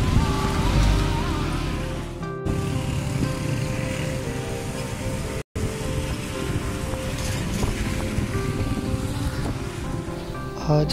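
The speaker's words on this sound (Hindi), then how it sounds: "आज इस दरिया का बहाव पहले के नस्बत काफ़ी तेज है" A fast-flowing river near Muzaffarabad, swollen after heavy rain in the mountains, rushes in a loud, steady broadband roar with churning surges, briefly cutting out twice.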